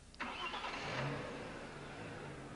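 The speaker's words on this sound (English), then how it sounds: "Start the engine." An Audi B5 S4 engine cranks and fires, settling into a steady, fairly loud idle with a low rumble after the brief start.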